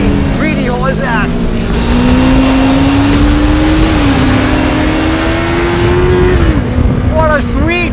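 A Yamaha YZF R3 motorcycle engine revs hard and holds high RPM, its rising and falling whine loud and close over continuous wind and road roar, with brief shifts in pitch as the rider works the throttle.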